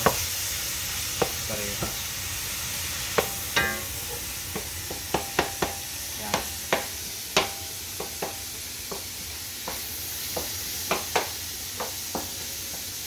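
Pancit ingredients sizzle in a pan under a steady frying hiss, while a spoon scrapes and clicks against the pan at irregular intervals, and a voice says a word partway through.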